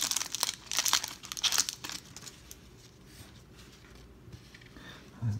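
Sealed packs of 1992 Pro Set football cards being torn open, with sharp crinkling and tearing bursts of foil wrappers near the start, then quieter handling and a brief crunch at the end.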